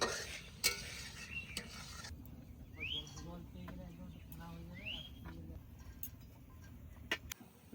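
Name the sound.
stirring poppy seed paste in a cooking pot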